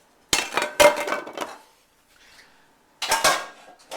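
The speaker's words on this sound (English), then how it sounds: "I'm going to make 2 steaks instead of 3 with this frying pan." Metal cookware clatters and clanks in two bursts separated by a quiet pause, close and sharp.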